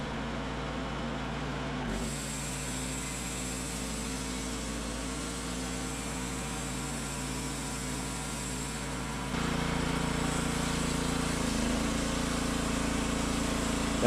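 A Woodmizer portable sawmill's small gas engine runs on a cold day after a hard start, a steady droning hum that steps up in level and pitch partway through.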